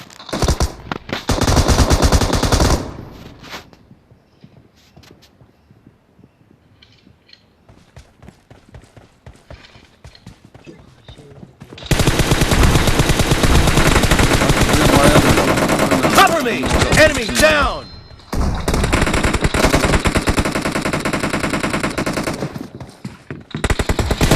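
Rapid automatic gunfire from the mobile game PUBG Mobile rattles loudly in sustained bursts, broken by a long quieter stretch of faint game sounds before heavy firing resumes.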